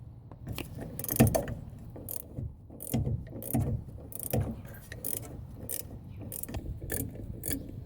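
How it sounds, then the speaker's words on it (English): An 18mm ratcheting wrench clicks steadily while turning the upper leaf spring bolt on a 1970-1981 Camaro, a close, repeated ratchet-and-pawl rattle in short bursts with no talk. "now I'm gonna put a ratcheting end over here, 18mm, to get this top one"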